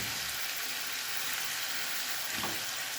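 Goat liver kaleji masala frying on slow heat, a soft, even sizzle that holds steady throughout, with a faint stir partway through.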